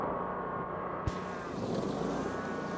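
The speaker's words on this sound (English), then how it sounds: "So we're going to rev it up." The engine of an Iseki SRA800 ride-on brushcutter runs close by and steadily, then climbs from idle to a higher, louder revving drone after a brief clunk.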